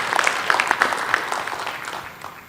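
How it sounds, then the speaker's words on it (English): An audience at a tech presentation gives a round of applause, a steady patter of many hands clapping that fades gradually toward the end. "All right, Ryan, one more round of applause"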